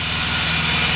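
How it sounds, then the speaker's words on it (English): A BMW E36 M3 engine idles steadily in a garage, a close, continuous low rumble with an even pulsing beat and no voices over it. "I got the e36 idling behind me"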